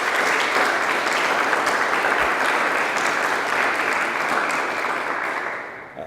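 Sustained applause from a crowd at a press conference honouring the Bennington Rescue squad, loud, dense and continuous before slowly fading at the end.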